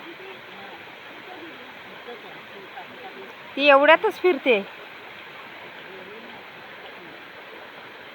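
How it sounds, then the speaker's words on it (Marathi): Heavy rain falls in the Konkan countryside as an even, unbroken hiss, with a brief spoken phrase cutting through midway before the steady downpour carries on alone. "तर मंडळी पाऊस बघा जोरात लागतो."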